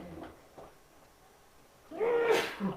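A single sudden sneeze bursts out near the end after a few quiet breaths, loud and close, with a short vocal catch right after.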